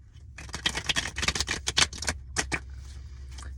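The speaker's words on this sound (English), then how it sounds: "And I'm going to shuffle the cards one more time." Tarot cards being shuffled by hand, a run of quick papery riffling bursts for about two seconds, then a few softer separate flicks before the sound settles.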